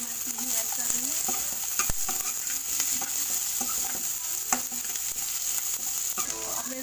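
Roasted almonds and peeled peanuts are stirred into a pan of sizzling onions, giving a steady frying hiss broken by several scraping stirs and light knocks of the spoon against the pan.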